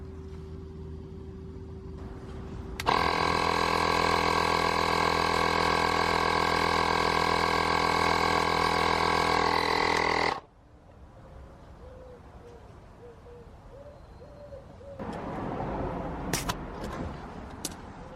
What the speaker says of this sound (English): I need to pump up the tyres to the fully loaded setting